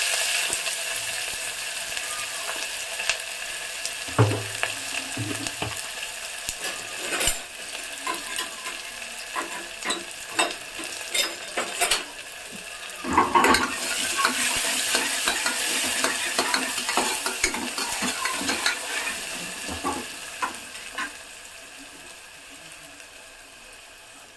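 Onion frying with cumin in a pan for bitter gourd gojju, a close steady sizzle overlaid with frequent scraping stirs and spatula knocks, loudest around the middle.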